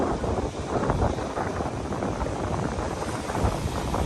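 Strong monsoon-season wind at Nagoa beach in Diu, a steady, loud roar buffeting the microphone without pause, with no talking.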